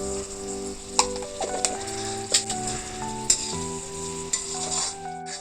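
Chopped onion with salt fries in a pan with a steady sizzle, broken by sharp clinks and scrapes of a stirring spoon against the pan every second or so, while soft background music plays.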